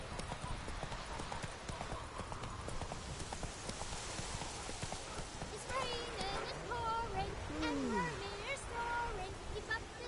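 Horse hooves clip-clop at a steady galloping rhythm in The Witcher 3, mid-level and continuous, with faint game ambience and short tonal cues layered over the second half.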